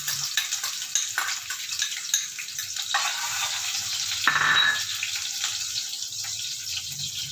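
Garlic dropped into hot cooking oil sizzles steadily and loudly in a home kitchen, a continuous close frying hiss with a brief surge partway through and no talk.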